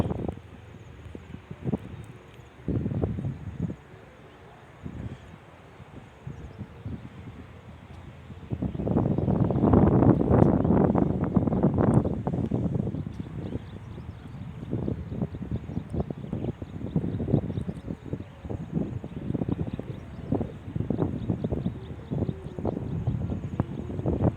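Gusty wind buffets and roars in uneven bursts at The Link field in Korat, swelling loudest partway through before easing into continued rough blowing.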